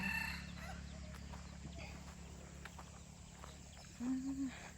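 Jungle fowl cluck in a rural Thai setting, with a short burst of clucking standing out near the end over a steady low background hum.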